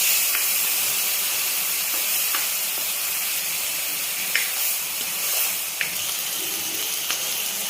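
Tomato-onion paste fries in hot oil, giving a loud, steady hissing sizzle close by, with a few faint clicks and stirring sounds and no talking.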